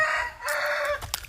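Shamo and Aseel chickens on a farm in the Philippines: a close, loud rooster crow followed by a few short clucks and squawks, with no voices.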